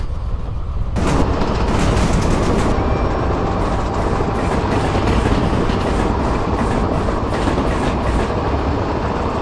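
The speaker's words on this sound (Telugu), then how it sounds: "తిరువనంతపురం సెంట్రల్ ఎక్స్ప్రెస్ అంట వెళ్ళిపోతుంది." An express train passes in a train simulator game, heard as a loud, sustained rush of wheels and carriages with rhythmic clickety-clack beats running steadily right after an abrupt start, with no talking.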